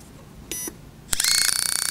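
A beep sounds, then a Foredom 1050 micromotor hammer handpiece starts with a sharp click and runs with a rapid, pulsing buzz.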